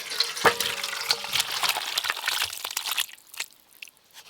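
Cooked chicken curry poured out of a pot into a large bowl, with wet, clattering scrapes and sloshing that go on for a few seconds and then taper off into quieter drips.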